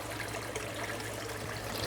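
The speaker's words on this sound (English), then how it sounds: "Let's get my waterfall tank turned back on." Water trickles steadily from an aquarium waterfall tank, a faint, even splashing wash with a low hum beneath it and no voices.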